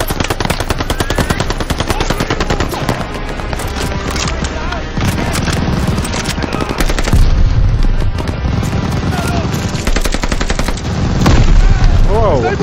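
Rapid, loud machine gun bursts and scattered rifle fire in a World War II battle in the Call of Duty Vanguard campaign, nearly continuous and close, with occasional booms and shouted voices in the mix.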